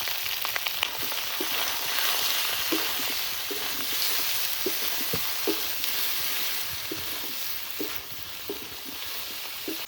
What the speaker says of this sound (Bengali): লবণ হলুদ দিয়ে একটু নাড়াচাড়া দিয়ে নিলাম